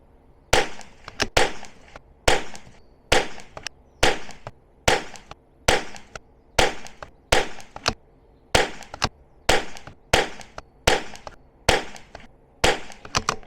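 A .22 rifle fires SK Standard Plus ammunition in a long regular series of sharp, loud cracks, roughly one shot every second, each followed by a brief echo tail. No voices.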